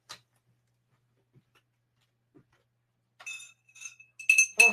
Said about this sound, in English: I have to get my water.